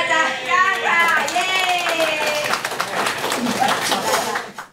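An audience in a lecture setting claps to welcome a teacher, a moderate patter of hands under a voice speaking over it.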